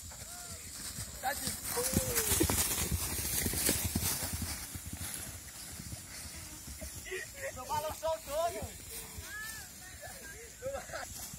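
Horse hooves clip-clop steadily on the ground during an outdoor balloon-popping gymkhana on horseback, a fairly close, rhythmic patter mixed with a hiss of air and loud chatter from several people.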